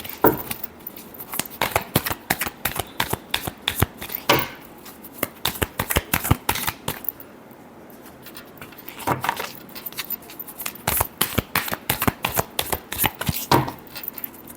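Tarot cards are shuffled by hand in quick bursts of crisp, close riffling and slapping, with rapid irregular clusters broken by short pauses.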